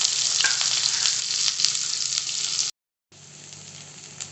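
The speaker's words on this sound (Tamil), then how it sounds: "இப்போ நம்ம நறுக்கி வச்சுருந்த பெரிய வெங்காயத்தை சேர்த்துடலாம்" Chopped large onions hit hot oil with cumin for Bombay sambar, giving a loud, continuous sizzle and crackle close up, broken by a brief silent gap before the frying resumes.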